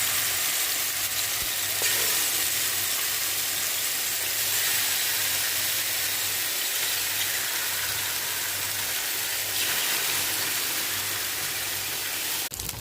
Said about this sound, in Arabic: في الشواية بتاعتنا حبة من الزيت، وهنزل الفراخ